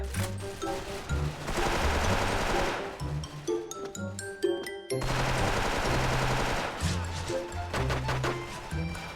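M4A1 rifle fire in a shooting video game: loud, rapid automatic bursts with a short pause in the middle, then more sustained fire, over game music, with someone faintly talking.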